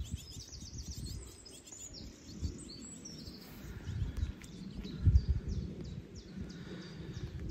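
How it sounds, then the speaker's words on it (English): Small birds chirp and tweet in quick, high bursts over a low rustling background, fairly close and moderately loud. "Sounds like a little bird's nest in there."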